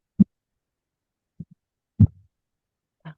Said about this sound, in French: Entends les battements de cœur de ta maman.